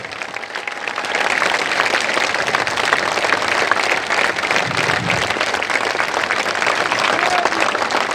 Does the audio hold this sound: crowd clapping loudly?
yes